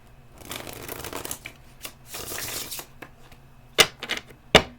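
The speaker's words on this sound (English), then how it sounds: "I'm going to do one more shuffle." A deck of tarot cards is shuffled by hand in quick riffling bursts, followed by a few crisp taps and snaps of the cards, close and quiet with no voices.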